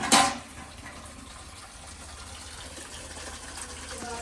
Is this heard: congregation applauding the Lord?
no